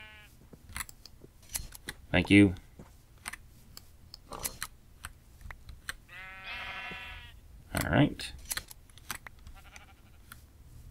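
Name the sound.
sheep bleating while being sheared in Minecraft video game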